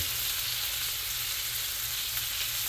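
Chicken sizzles steadily in a cast iron pan over fairly high heat, a continuous close hiss of frying with no voices.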